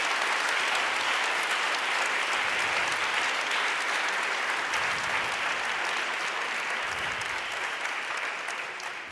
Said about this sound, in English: we can do an applause